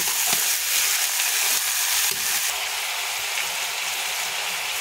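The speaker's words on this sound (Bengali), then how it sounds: "দিয়ে পেঁয়াজের সাথে মাংসগুলোকেও আমি ভালো করে ভেজে নেব।" Chicken pieces and onions frying in hot oil for a home-style desi chicken curry, a steady dense sizzle with scraping stir strokes near the start, close and continuous with no talk.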